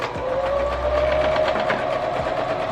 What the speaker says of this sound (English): we're going back to zigzag stitch.